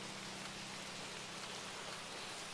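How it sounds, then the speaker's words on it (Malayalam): Steady rain falls continuously, a dense even hiss of drops with no voices, faint and unchanging throughout. "രാവിലെ തൊട്ട് നല്ല മഴയാണ്"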